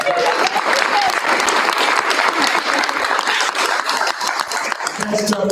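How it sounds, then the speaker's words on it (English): A school board meeting audience applauds and cheers for a student of the month, steady dense clapping throughout with scattered voices and cheers mixed in. "Let's give a cheer for you."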